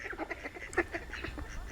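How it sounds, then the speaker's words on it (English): Ducks quack and honk in short, uneven bursts at a pond in misty, foggy Padley Gorge, close and moderately loud over quiet outdoor air. "But the ducks are being a bit annoying."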